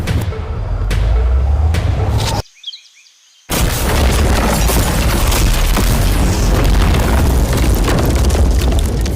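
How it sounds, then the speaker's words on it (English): A deep, booming explosion as a car is blown up after a brief hush, followed by a long roaring rumble of debris and wind that stays loud to the end. "before we blow up this car"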